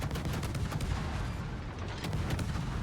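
Heavy naval gunfire strikes a ship in World of Warships, a dense rumbling barrage of booms and impacts that fills the moment, loud and continuous without talk.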